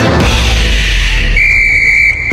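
A sharp, high whistle blast cuts in partway through over loud music, holding steady for under a second before stopping.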